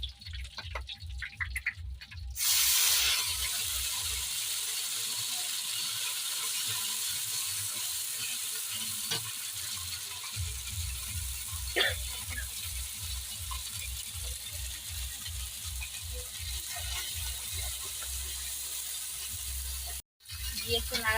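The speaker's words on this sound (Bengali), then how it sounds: "এবার দিয়ে দিচ্ছি বেটে রাখা মশলা।" Ground spice paste hits hot oil in a pan for Rui fish kalia, giving a steady loud sizzle that runs almost without a break, with a low rhythmic pulsing underneath and brief stirring clinks.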